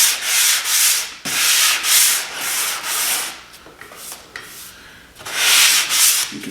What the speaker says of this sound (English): going over it with your hand is just the only way to get a really good sanding job